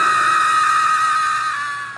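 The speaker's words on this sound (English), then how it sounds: "the most disturbing, memory-haunting scream I'd ever heard filled my ears" A loud, sustained high-pitched scream holds steady and alone, then cuts off abruptly at the end.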